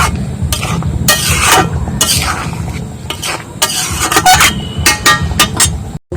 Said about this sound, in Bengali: আর এই গোটা জিরেটাও এই তরকারির মধ্যে একটু নাড়িয়ে নেব, যাতে সবটা একদম মাখো তরকারির মধ্যে মিশে যায়